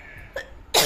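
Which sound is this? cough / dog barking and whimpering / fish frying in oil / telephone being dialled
cough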